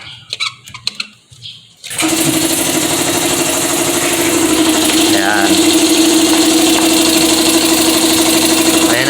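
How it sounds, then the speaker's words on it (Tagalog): A repaired air compressor on a Vespa is plugged in and kicks on abruptly, then runs steadily and loudly with a buzzing, vibrating motor drone; brief handling noises come before it starts. "okay na ang ating compressor sige ngayon kailangan na ulit nating isaksak try natin kung gumagana na"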